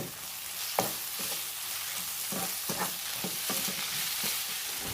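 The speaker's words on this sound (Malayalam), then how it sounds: "നമ്മളിട്ട പൊടികളുടെ പച്ച മണം മാറുന്നത് വരെ ഇത് നന്നായിട്ടൊന്ന് ഇളക്കി കൊടുക്കും." A spice mixture for kaima biriyani sizzles steadily in a pan while a spoon stirs it, with scattered scraping clicks over a constant frying hiss, close and alone.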